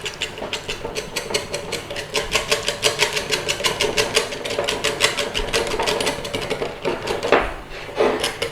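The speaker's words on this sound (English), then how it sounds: "get a whisk in there and whisk it all up." Whisk beaten briskly through a sweet chili satay sauce dressing in a bowl, giving a fast, continuous rhythmic clatter close by that keeps going throughout without any talking.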